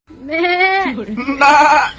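A human voice imitates a goat's bleat, a wavering nasal cry, followed by a second, higher bleating call, close and loud.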